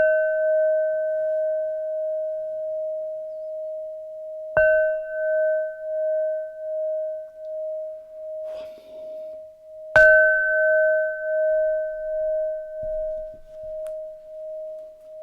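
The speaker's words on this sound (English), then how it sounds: "So let's have the bells." Ritual bells struck three times a few seconds apart, each strike a clear bright ding whose pure tone rings on and slowly fades before the next, with faint handling noise between.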